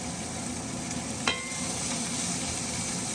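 Grilled onions sizzle steadily in a pan, a dense continuous frying hiss with one brief sharper clink of stirring partway through, close and fairly loud with no talk.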